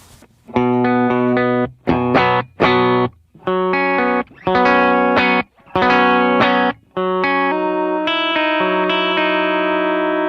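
Electric guitar played through a Mustang always-on preamp pedal, ringing chords with a subtle harmonic lift, played in separate strummed phrases with short gaps and a longer sustained passage at the end, loud and close, no voices.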